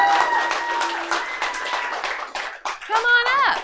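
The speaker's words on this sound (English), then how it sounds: "Give them a big round of applause." Audience applause at a live comedy show, a steady wash of clapping mixed with crowd noise and tonal sounds, with voices rising over it toward the end.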